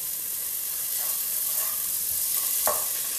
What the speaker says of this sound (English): use that warm pan to melt a little bit of butter